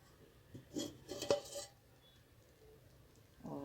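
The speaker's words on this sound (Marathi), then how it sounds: "आपण झाकण काढू बघू" A metal lid is lifted off a pot used to bake a maida cake, making a few faint clinks and scrapes of metal against metal, followed by quiet and a soft rustle.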